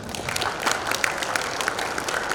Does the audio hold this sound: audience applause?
yes